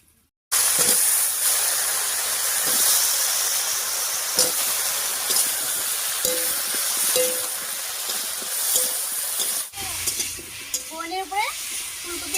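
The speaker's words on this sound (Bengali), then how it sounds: "ফোড়নের উপরে ফুলকপি আর আলুটা দিয়ে একটু নাড়িয়ে নিলাম" Cauliflower and potato hiss and sizzle steadily as they fry on tempering spices in a pan, with scattered clinks and scrapes of stirring, close and fairly loud throughout.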